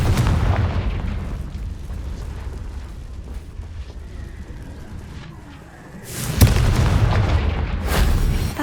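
A Confringo fire spell in the Hogwarts Legacy video game detonates in loud, deep booming blasts, one at the very start and another heavy burst rolling in after a quieter rumbling stretch.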